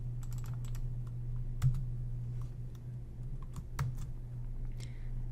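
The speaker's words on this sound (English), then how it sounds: "I type into the query." Keystrokes on a computer keyboard typing a search query, a light scattered patter of clicks with two slightly heavier taps, over a steady low hum.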